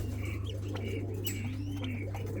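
A male Japanese quail calls from its pen in short, soft bird notes, faint over a steady low background hum, with no talking.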